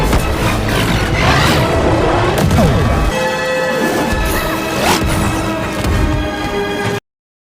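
A mechanical arm is smashed in an animated fight: loud, continuous crashing and banging with metallic impacts and booming thuds that fill the whole stretch, then cut off abruptly.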